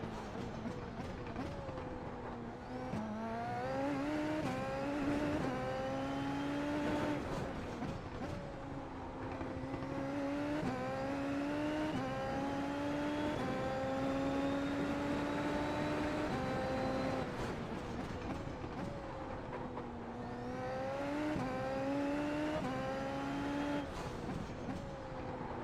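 Formula Super Series race car engine in iRacing at the Chicago Street Course, a steady rising and falling whine through repeated gear changes, loud and continuous with the car up close and no talk.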